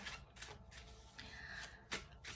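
Oracle cards are shuffled by hand in soft, quick riffling bursts and rustles, quiet and close, repeating irregularly with no voice over them.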